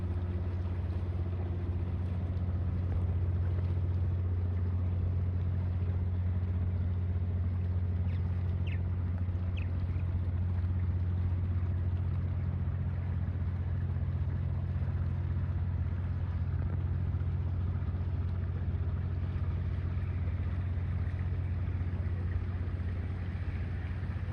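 A boat engine runs steadily as the vessel leaves the dock at Friday Harbor, a constant low droning rumble with faint wind, no talk.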